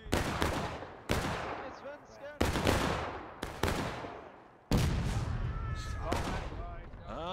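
Gunfire cracks out on the Piper Farm map in War of Rights: several loud, sharp shots spaced a second or so apart, each with a long echoing tail, with someone talking between them.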